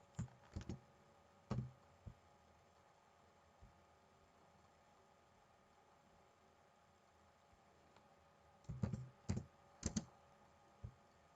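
Typing on a computer keyboard to enter a formula into a Word document, heard as short clusters of soft key clicks near the start and the end, separated by a long quiet stretch over a steady hum.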